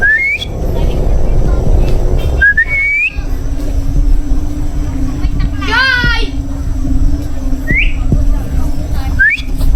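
Sharp rising whistles repeat outdoors, a short two-note call near the start and again around the middle and end, with a trilled burst in between, over steady ambient hum and distant children's voices, while searching for lost cockatiel parrots in a mango orchard.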